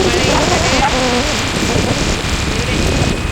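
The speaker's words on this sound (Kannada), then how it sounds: "ಮಳೆ" Steady rain pours down in the malnad countryside near a coffee estate, a continuous broadband hiss that carries through the whole stretch, with a voice murmuring faintly underneath.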